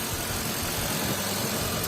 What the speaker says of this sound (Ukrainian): Двигун працює тихенько, рівненько, без сторонніх шумів.